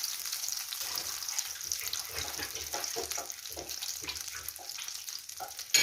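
Chicken fillet chops sizzle in a frying pan, a dense, steady hiss of frying fat with soft crackles and spits throughout and a sharper knock right at the end, close by.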